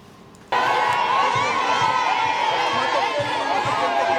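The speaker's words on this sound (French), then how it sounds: "Jacques Kabula Katwe a eu droit à un bain de foule impressionnant de la part de la population" A large crowd of townspeople in a Congolese border town welcoming an arriving government official, bursting in suddenly with loud sustained cheering, shouting and excited chatter, close and continuous.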